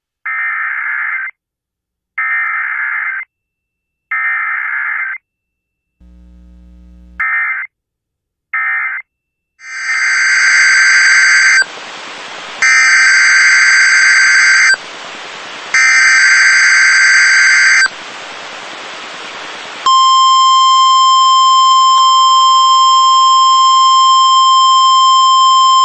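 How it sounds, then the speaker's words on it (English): Emergency Alert System test tones from a live television broadcast: several sharp rhythmic electronic data bursts, then a long loud sustained two-tone alert blare, ending in a steady pure tone. "This is a test of the emergency alert system."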